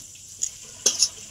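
A few quick scraping stirs and clinks in a pan of spiced soybean cutlet mixture being sautéed, heard close in short bursts over a faint sizzle, with no talking.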